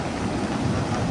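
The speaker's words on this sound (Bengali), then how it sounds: "বৃষ্টি পড়ছে" Steady rain falls at night in Puri by the sea, a dense even hiss of drops on surfaces, fairly loud and continuous with no voices.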